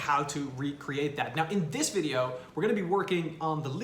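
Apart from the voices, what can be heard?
No distinct noise like a dog, phone or traffic.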